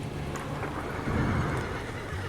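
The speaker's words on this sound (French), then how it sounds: "Les chevaux, dégoulinants, piaffent dans les flaques devant l'allée et s'ébrouent en secouant la tête." Horses whinny and stamp amid steady rain and rumbling weather, one clear neigh rising near the middle of a short, dense background, an audio drama effect of soaked carriage horses halting in puddles before a house.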